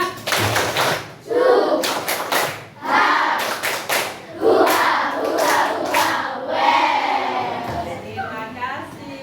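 Primary school class doing a rhythmic spirit clap in a classroom, with bursts of many hands clapping in patterns alongside children's and a teacher's voices.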